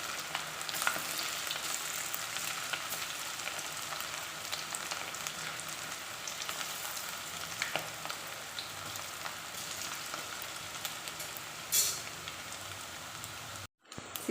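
Thin, thread-like strands of chicken fry in hot oil in a pan for a nool fry, a dense, continuous crackling sizzle close by that runs unbroken before a brief cut near the end, with no talk.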